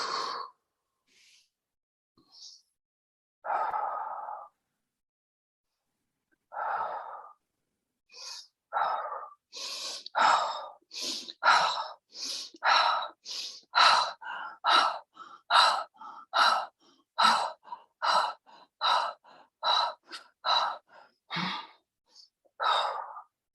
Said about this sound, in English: you will find your breath will come faster automatically, and it will sound like this.